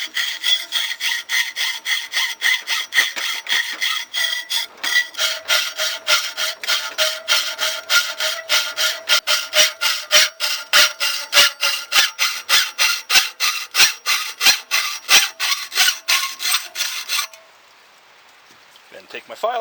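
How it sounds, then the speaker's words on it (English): Gold Owl sluice matting for a high banker being sawn straight across, a steady rapid back-and-forth rasp of strokes running close and loud for about seventeen seconds before stopping abruptly. "Being very careful to cut nice and straight."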